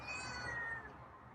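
A single drawn-out meow from Scruffy, a feral cat, sounds close and clear, sliding slightly down in pitch before fading over about a second.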